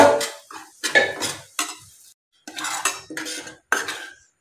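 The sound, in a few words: semolina being stirred and roasted in ghee in a pan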